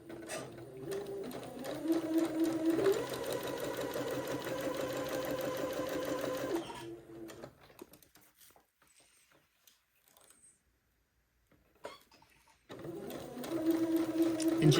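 Domestic sewing machine stitching stretched elastic straight onto fabric for a jumpsuit: two steady runs of close, rapid whirring, the first about seven seconds long, then a near-silent pause with a few faint handling clicks, then the motor starts again.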